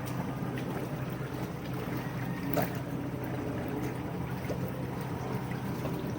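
A small wooden boat moving fast across the water, a faint continuous wash and hiss of water with a brief splashy surge midway, heard from nearby at low level.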